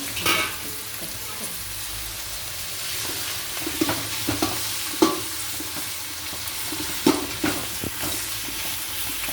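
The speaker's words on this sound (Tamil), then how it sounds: "நல்லா வெங்காயம் வதங்கி போட்டுக்கலாம்." Onions frying in oil in a pan for a home-cooked lunch curry, with a steady close sizzle and intermittent scraping stirs of a spoon across the pan throughout.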